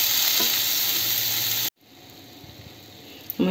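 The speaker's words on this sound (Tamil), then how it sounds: "பாருங்க பன்னீர் நல்லா ஃப்ரை ஆகிடுச்சு." Paneer cubes frying in a pan for chilli paneer give off a steady, loud sizzle that cuts off abruptly partway through, leaving a quieter hiss with a faint clatter at the end.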